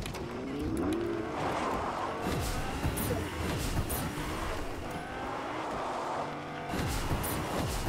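A car drives in the video game Fortnite with continuous engine hum and revving, shifting pitch as it speeds up, mixed with game effects and brief clicks.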